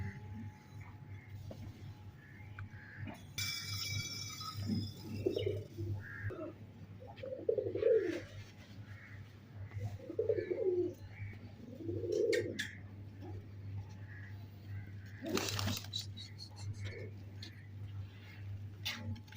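Soft, throaty pigeon coos repeat in short bursts over a steady low hum, with a few brief clatters and occasional chirps nearby.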